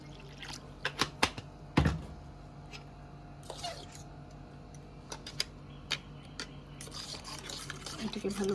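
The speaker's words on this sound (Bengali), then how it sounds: "পেস্টটার মধ্যে আমি একটু জল মেশাবো" Water is stirred into a mango paste with soft, faint ticks and clinks from a utensil against the bowl. Quiet sloshing comes in brief scattered bursts against a low background.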